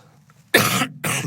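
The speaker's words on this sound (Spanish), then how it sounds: "Disculpen ustedes que tenga yo esta tos hoy" Two hoarse, close coughs from a speaker with a cough, the first longer and the second following after a brief pause, loud against a quiet room.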